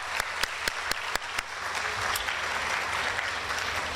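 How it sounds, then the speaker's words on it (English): Applause at an event, opening with a few sharp, distinct claps in an uneven rhythm that then merge into a steady crowd clapping, with a low rumble of room noise underneath. "And please give her a round of applause."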